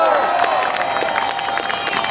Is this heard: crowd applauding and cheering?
yes